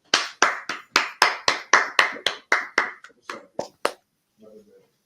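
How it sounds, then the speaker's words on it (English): A group claps together in a steady, even rhythm of about fourteen sharp, loud claps that fade slightly near the end, followed by a brief murmur of voices. "Clap it up."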